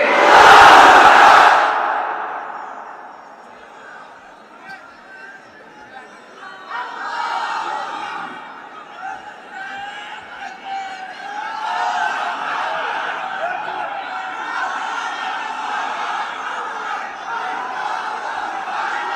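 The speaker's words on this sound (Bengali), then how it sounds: "সবাই মিলে 3টা তাকবীর পড়েন" A large crowd at an Islamic sermon gathering shouts a loud, unified takbir, then its voices carry on as a broad, sustained roar with rising and falling surges.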